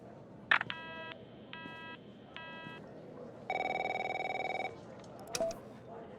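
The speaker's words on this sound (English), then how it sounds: "My phone's ringing off the hook here." A phone rings in the video game The Operator: several short electronic ring bursts, then a longer, louder buzzing tone, with faint clicks and low background noise.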